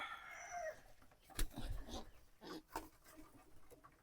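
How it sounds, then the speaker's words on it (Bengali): A male pigeon with phlegm in its throat gives faint, raspy, gurgling calls in a few short bursts in a quiet pigeon farm, with some soft rustling. "দেখেন কিরকম ডাক দেয় কবুতরটা"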